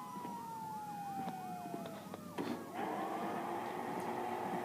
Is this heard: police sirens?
yes